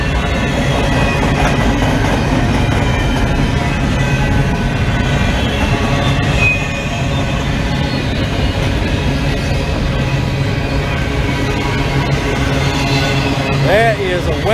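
A westbound BNSF train rumbles past close by at Flagstaff, a steady heavy roar with rhythmic wheel clatter throughout and a brief squeal near the end.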